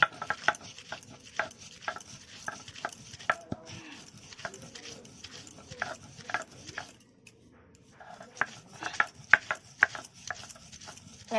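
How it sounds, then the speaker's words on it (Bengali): Spices being ground for a roasted tomato chutney make rhythmic, fairly faint scraping and knocking strokes that repeat steadily, pause briefly near the middle, then resume. "এবার এগুলোকে বেটে নিচ্ছি।"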